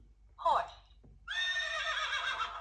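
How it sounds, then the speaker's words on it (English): A horse neighs in a children's farm animal read-aloud, with a short whinny rising then falling, followed by a brief pause and a longer, louder sustained neigh close by. "horse"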